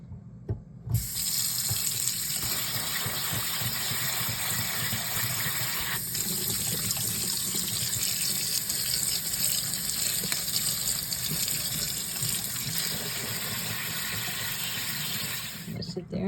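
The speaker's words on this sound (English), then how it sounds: "We have to rinse this with cold water." Cold tap water runs steadily into a kitchen sink to rinse cooked pasta for a cold pasta salad, a continuous loud gushing splash lasting throughout with no talking.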